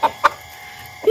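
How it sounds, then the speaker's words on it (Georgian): A rooster gives two short clucks in quick succession, then a pause before a third begins, close by and clear against a quiet background. "აი ეს არის მამალა"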